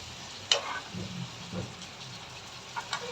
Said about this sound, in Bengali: এখন আমি এগুলা একটা একটা করে একটু উল্টিয়ে পাল্টিয়ে দিব